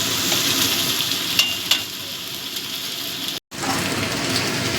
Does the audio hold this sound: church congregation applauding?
no